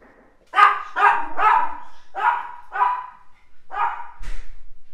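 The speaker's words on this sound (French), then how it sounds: "Alors c'est Gizmo, c'est mon chien." A dog barks about seven times in quick succession, loud and close, with a short pause before the last few barks.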